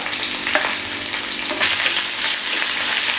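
Chopped ginger sizzles steadily in a hot pan for a Kerala-style dosa upma, with soft scraping strokes of a spatula stirring it through, close and continuous with no voices.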